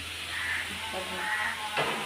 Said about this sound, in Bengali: আর একটুখানি ভাজা হোক